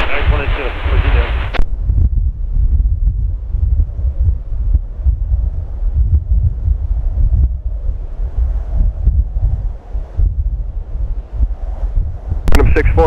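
Strong, gusting storm wind at Schiphol Airport buffets the microphone in a constant low roar that rises and falls; a brief radio voice is heard at the start and end.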